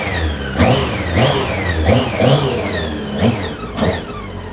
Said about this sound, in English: the engine sounds absolutely brilliant